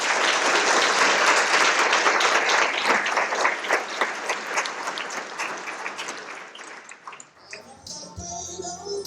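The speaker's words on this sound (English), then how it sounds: "Let's give them a round of applause." Applause for honorees fills a luncheon hall, a dense, steady wash of many hands clapping that gradually thins and fades after several seconds.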